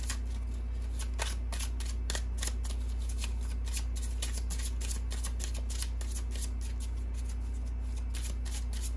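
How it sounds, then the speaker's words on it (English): Angel Therapy Oracle cards shuffled by hand, a long run of crisp, fast paper flicks and riffles at close range, with a constant low hum underneath. "these are called Angel Therapy Oracle cards, again by Doreen Virtue."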